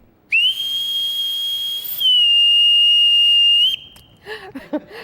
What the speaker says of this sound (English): There's a lot of significance to that whistle